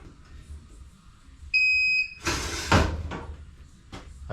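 A single electronic beep tone from a KATool KT-T750 wheel balancer holds steady for about half a second, followed by clattering, rustling handling noises nearby.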